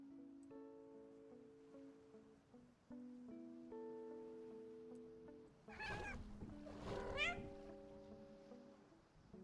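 Sad, drawn-out cat meows in the video game Find Matt's Cats, two wavering cries rising over a steady tonal music bed, fairly close and clear with no talking.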